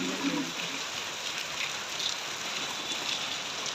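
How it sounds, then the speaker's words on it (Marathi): Rain falls steadily outside a house in the monsoon, a constant hiss of drops on surfaces at moderate loudness, with a faint voice briefly at the start. "पाऊस येतो"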